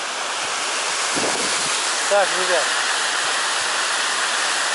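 A mountain river in Chechnya rushes steadily in a continuous broadband roar, with someone speaking briefly over the flowing water.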